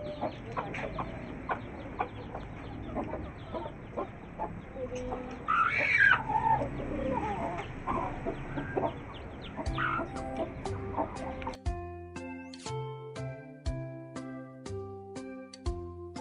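A hen clucks in a backyard coop with week-old chicks, a string of soft, irregular clucks and short calls close by, followed by a few sharper metallic clicks near the end.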